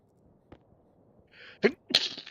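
A single sharp sneeze bursts out near the end, preceded by a few faint clicks and a brief hum.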